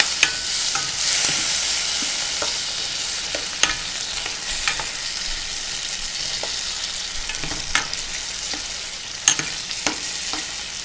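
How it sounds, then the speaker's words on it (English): Tomatoes and onions frying for ackee and saltfish get stirred in a hot pan: a constant loud sizzle with scattered scrapes and taps of the spoon, close by, with no talking. "and onions. I'm going to give that a quick stir."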